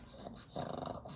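A pet dog growls low and steady for about a second, rising midway, close by in a quiet indoor room with no talking.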